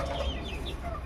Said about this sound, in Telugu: ఒరిజినల్ నాటు, మంచి వెయిట్ ఉన్న కోళ్ళు అండి.